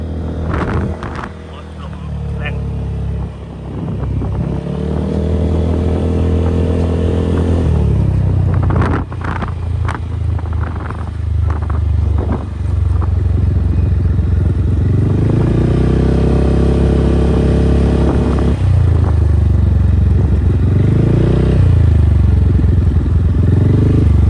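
A pickup truck drives along a narrow rural road about three and a half metres wide, its steady engine drone rising and falling with revs over most of the stretch, close and fairly loud, with rattling clatter and a voice talking over it.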